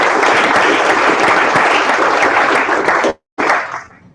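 Loud, dense applause from an audience at a 2015 campaign launch event, steady and close for about three seconds before a brief cut, then resuming and tapering off.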